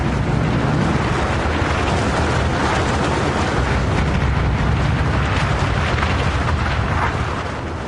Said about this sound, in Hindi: फैटमैन में विस्फोट हुआ।